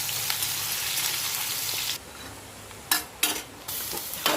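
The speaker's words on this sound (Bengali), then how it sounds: "ভালো করে ভেজে নেব।" Chopped onions frying in a pan with dried red chillies and bay leaves, a steady close sizzle broken by a few sharp stirring scrapes, with no talking.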